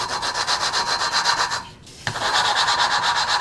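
An engine valve is lapped against its seat by hand with a suction-cup tool, giving a rhythmic, gritty rubbing scrape that repeats in quick back-and-forth strokes, pauses briefly, then resumes, close and loud.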